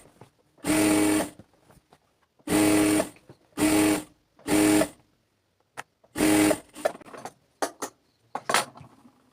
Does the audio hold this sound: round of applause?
no